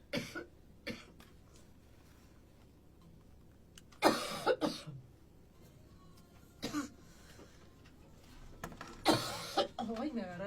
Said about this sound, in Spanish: me agarré de tos